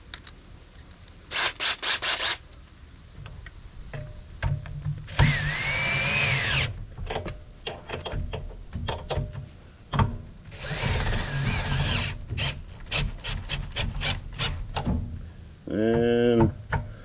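Torx 30 screw being driven back in on a go-kart with a power tool, several short bursts of whirring and grinding with rubbing pauses between, close by, with someone speaking intermittently.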